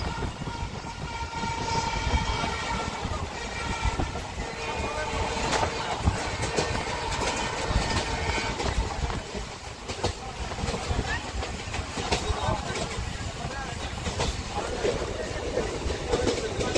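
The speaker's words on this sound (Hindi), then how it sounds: "देखो गाइस की ट्रेन अंदर की तरफ से कितना ज्यादा हिल रहा है" A train rolling along rails, heard from inside the swaying carriage: a continuous loud rumble with rattling and rhythmic clatter throughout.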